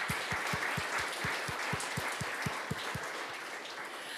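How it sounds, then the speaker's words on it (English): Conference audience at a PyCon APAC 2023 keynote clapping steadily in a broad wash of applause, with a regular low thump pulsing roughly every quarter second through most of it, then fading slightly near the end. "Let's give ourselves a hand of applause."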